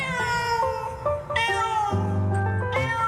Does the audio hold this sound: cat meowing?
yes